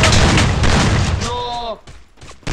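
Gunfire in a video game, a rapid burst of loud booming shots up close followed by a few scattered pops after a brief lull.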